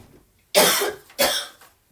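Two harsh coughs from post-nasal drip in quick succession, close and loud, with near silence before and after.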